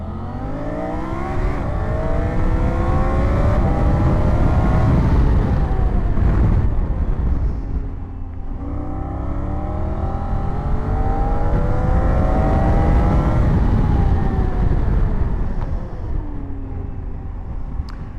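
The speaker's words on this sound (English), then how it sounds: "let's do a little like 0-80 to 0 kind of thing to show you the acceleration and braking" A 2024 Triumph Tiger 900 Rally Pro adventure motorcycle with 107 horsepower accelerates hard from a standstill and then brakes. The loud, close engine climbs in pitch through several gear shifts, eases off, then pulls through another rising run.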